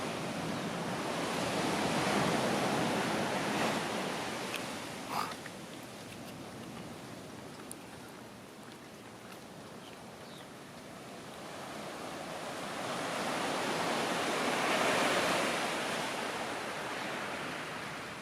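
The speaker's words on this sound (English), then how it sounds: "You can see the surf and this little bit of surf. I mean, ripple waves is what we would call them." Small ripple waves of surf breaking on the shore at Puerto Vallarta, Mexico, with a steady rushing wash that swells and fades in two gentle surges, blended with light wind noise and no talking.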